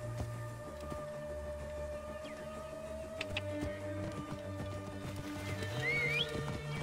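Hooves clip-clopping in Assassin's Creed Origins as a horse walks along, faint and rhythmic beneath the game's music.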